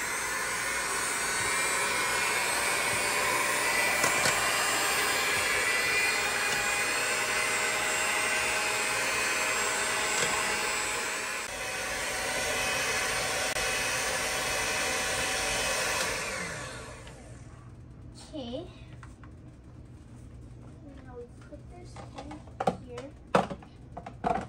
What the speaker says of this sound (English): So now we're gonna mix it on low for at least about 10 minutes.